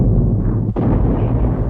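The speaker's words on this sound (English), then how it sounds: "Gun after gun joined in" World War I heavy artillery bombardment on the French front: a dense, continuous low rumble of massed guns with a sharper burst near the middle, loud and unbroken, no voices.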